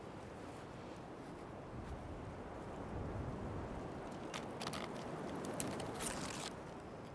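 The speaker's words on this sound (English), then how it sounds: "The wind is something else today." Strong wind buffets an outdoor microphone in a steady, broad rushing roar that builds slightly and holds, with a few brief rustling crackles near the end.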